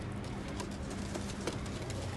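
Ferozpuri pigeons coo softly amid a dense, noisy background, with a few short calls standing out over the steady hiss.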